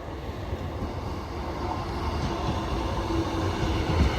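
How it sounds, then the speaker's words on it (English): A Class 150 diesel train rumbles into Dewsbury station with a low, steady roar that slowly grows louder, with no voices. "Train now arriving in"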